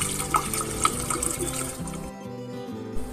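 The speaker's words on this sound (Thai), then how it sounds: "เหล้าขาวขวดเล็กขนาด 350มิลลิลิตร ใส่ลงไปทั้งหมด 1 ขวดเลยนะคะ" A small 350 ml bottle of white liquor is poured into a homemade garden insect-repellent mixture, making a close gurgling, splashing pour that stops abruptly partway through, followed by a brief soft knock.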